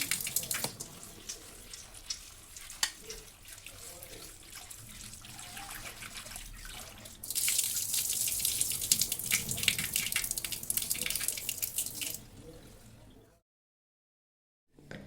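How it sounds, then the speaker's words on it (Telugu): Running tap water splashes steadily, growing louder and fuller midway as chana dal is rinsed under it, then cuts off abruptly near the end. "ఈ శనగపప్పునైతే 3-4 టైమ్స్ బాగా వాష్ చేసుకోవాలి."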